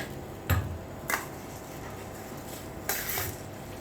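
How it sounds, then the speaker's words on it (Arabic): Two cups of uncooked rice go into a fairly large cooking pot for homestyle rustic rice, heard as a few sharp clattering knocks and a brief grainy rattle, close and moderately loud, with no talking. "انزل بالرز اهو"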